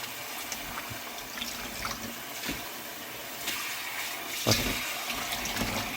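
Tap water runs over freshly picked wild chervil greens being rinsed by hand, a steady splashing flow with a few louder sloshes and knocks, close and without talk.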